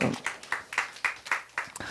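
A church congregation claps in praise: a steady run of about eight sharp claps at an even rhythm, fairly quiet and slightly distant in the hall.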